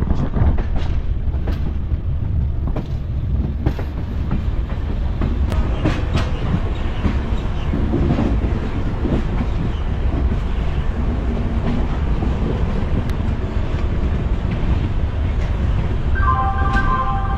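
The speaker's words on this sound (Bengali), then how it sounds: "মোটামুটি 1 ঘন্টার মতো ডিলে করে এখন আমাদের ট্রেন ঢুকছে হচ্ছে পুরী" A Shalimar–Puri superfast express rolling into Puri station, a steady loud rumble of wheels and carriages with rhythmic clatter throughout, and a brief tonal horn-like sound near the end.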